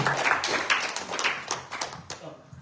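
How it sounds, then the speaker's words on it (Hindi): An audience at a talent show clapping to welcome a singer, with uneven hand claps that taper off over a few seconds and some voices in the background. "जोरदार तालियां टी नंदन जी की एक बार फिर से।"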